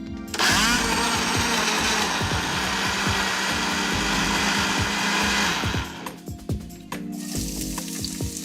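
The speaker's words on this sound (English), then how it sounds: "A sauce in which the seafood cooks slowly starts in a blender with tomatoes, chopped celery, a good sprinkle of cumin, and peeled roasted capsicum" A blender purees tomatoes, chopped celery, cumin and peeled roasted capsicum for a seafood sauce, running loud and steady for about six seconds before sputtering in short bursts and settling again.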